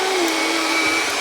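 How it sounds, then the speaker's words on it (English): Vacuum cleaner running on a floor at home, a steady loud whining motor drone with a constant high pitch, heard alone and up close with no speech. "He is pumped about this vacuum."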